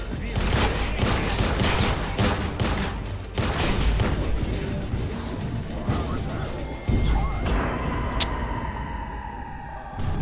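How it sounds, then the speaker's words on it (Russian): Sniper and other gunfire in Watch Dogs, a steady barrage of loud, crashing shots that continues without pause, with someone speaking over it. "Там снайпер валит"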